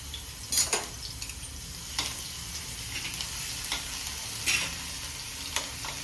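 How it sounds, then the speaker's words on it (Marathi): Garlic cloves frying in hot oil in a pan for a Marathi dish of dried bombil and dill: a soft, steady sizzle with occasional light clinks and stirring scrapes, fairly quiet and close. "तेल गरम झालं आहे, लसूण टाकून घेते मी याच्यामध्ये."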